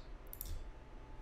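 A computer mouse gives a single faint, crisp click in an otherwise quiet room.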